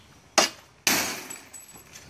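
Tempered glass struck and exploding, two sharp crashes followed by the bright, crackling rattle of shards scattering and settling, loud and close with no talk.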